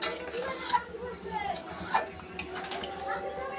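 Fish being added to a simmering pot of fish curry and stirred, with soft scraping and clinking of a utensil against the pot over a low bubbling background and a few sharper knocks.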